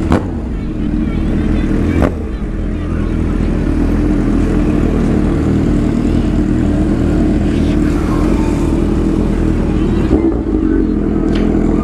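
A loud exhaust on a Honda Hornet or CB 1000 motorcycle drones steadily and close for the whole stretch, rough and throaty, with a brief sharp blip near the start and some voices beneath.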